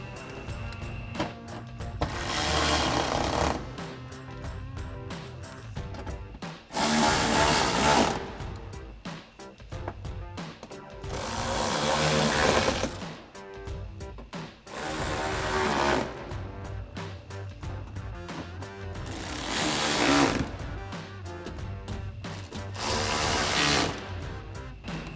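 Bursts of power-tool whirring as fender flare hardware is snugged into plastic clips on a 2024 Toyota Tacoma, several short loud runs spaced a few seconds apart with ratcheting mechanical texture and no talk.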